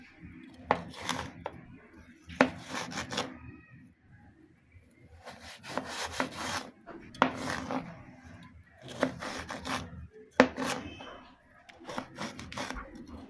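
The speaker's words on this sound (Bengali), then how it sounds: "আমি ছোট ছোট টুকরো করে কেটে নিচ্ছি।" A knife cuts frozen tomatoes into small pieces for butter chicken, making soft, close chopping taps in short bursts separated by quiet gaps.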